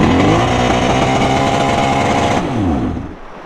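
Loud engine of a jon boat, run after sitting for three years, roaring close by at high revs, then dropping in pitch and winding down as it fades toward the end.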